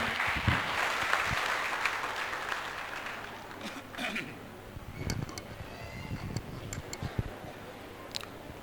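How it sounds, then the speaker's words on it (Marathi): A crowd at a public election rally in a hall applauds to welcome a state social justice minister, loud clapping at first that thins into scattered claps and ticks, with voices heard at times. "जोरदार टाळ्या वाजून स्वागत करा साहेबाचं"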